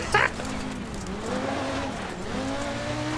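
A doorless Group B rally car engine in the video game EA WRC revs and drones steadily, pitch rising and falling as it shifts through gears, with a brief squeal near the start.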